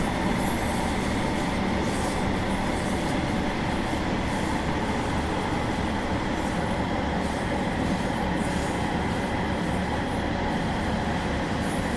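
A train in Train Simulator Classic rolls along with a steady, continuous rumble and a faint metallic squeal as it brakes, heard alone at an even loudness throughout.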